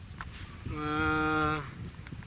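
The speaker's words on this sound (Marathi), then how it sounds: "हा माऊली माऊली हा आपला छान बैल" A single deep, drawn-out moo from a bull, close by and clear, lasting under a second against a quiet outdoor background.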